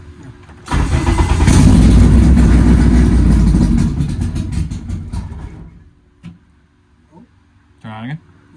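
A Honda K24 engine in an Integra DA9 cranks and catches, roaring loudly for a few seconds before settling toward a quieter idle, with a couple of short voice sounds near the end.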